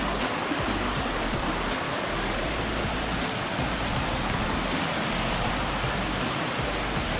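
Water rushes continuously at an eco farm, a loud broadband roar like a stream or small waterfall close by, steady and unbroken with no talk over it.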